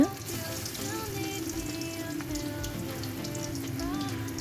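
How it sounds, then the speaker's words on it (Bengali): Tiny shrimp fritters frying in hot oil, a dense, even crackle and sizzle with scattered pops, steady and close throughout. "এরম করে গরম তেলের মধ্যে ছাড়বো তেল গরম হয়ে গেছে"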